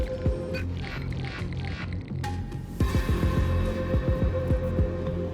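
Game heartbeats in Honkai: Star Rail, a series of deep, evenly spaced thumps pulsing under a sustained droning hum, growing denser and louder after a bright tonal swell partway through.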